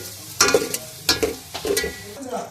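Browned chicken frying with boiled peas for spicy chicken macaroni is stirred in a pan, several loud scraping strokes in uneven bursts over a soft sizzle.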